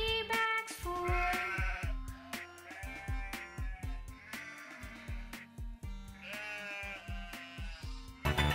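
Several sheep bleat in quick succession, loud and close, with wavering cries overlapping and pausing over a rhythmic backing beat in a children's song.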